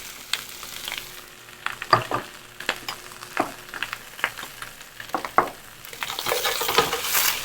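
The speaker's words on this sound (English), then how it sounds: "Stir frying." Pork, sugar snap peas, water chestnut and bamboo shoot sizzle in a hot pan, broken by irregular scraping and clattering stirs, then a louder hiss swells at the end.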